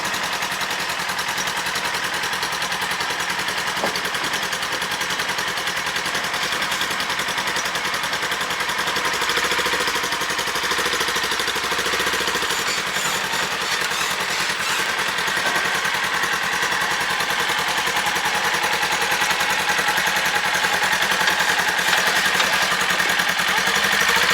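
A Polaris Ranger Premium 1000 utility vehicle engine runs steadily and fairly loud throughout, a constant idling drone with no breaks or clear revs.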